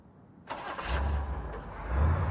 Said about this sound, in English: Then a car starting.